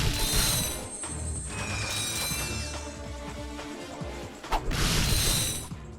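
Bolt crank being turned in the 2002 Ratchet and Clank game, with clanking mechanical ratcheting and gear sounds, metallic crashes and game effects layered together, loud and busy throughout.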